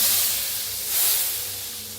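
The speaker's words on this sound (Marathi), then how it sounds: "गॅस करूया बंद फोडणी ह्याच्यावर वतून द्यायची" A hot tempering poured into kadhi hits the liquid with a sharp sizzling hiss that swells briefly mid-way, then settles into a fading steamy crackle.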